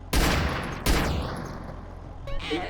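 Two loud, close gunshot bursts ring out in a GTA video game shootout, each followed by a decaying echo, with a faint electronic sound at the end.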